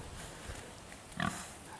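Pigs on a farm, just loaded and separated: a single short grunt rises briefly from a steady background hiss, faint and fairly distant.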